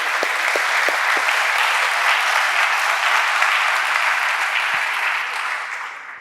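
Loud, sustained applause from a tech conference audience welcoming a speaker to the stage, thick, even clapping from a large crowd that holds steady, then fades toward the end.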